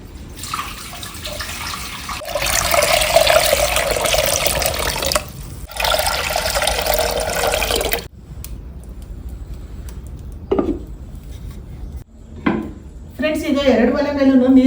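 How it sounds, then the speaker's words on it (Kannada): Water pours into clay pots set on two stoves in a village kitchen, a steady rushing splash in two long bursts, then quieter clinks and short handling noises. "ಹಾಗೆ ನೀರು ಹಾಕ್ತಾ ಇದ್ದೀನಿ"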